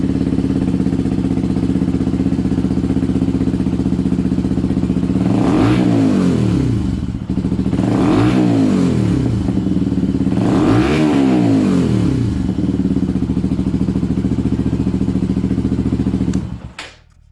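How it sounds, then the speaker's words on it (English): Motorcycle engine with a modified exhaust, idling loudly, then revved hard three times in a row, each rev rising sharply and falling back to a rumbling idle before the engine cuts off at the end. "we'll just give it a few revs and see what the loudest possible noise is"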